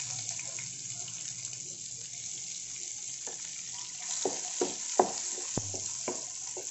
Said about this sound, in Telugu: గోల్డెన్ కలర్ వచ్చే వరకు ఫ్రై చేసుకోవాలండి.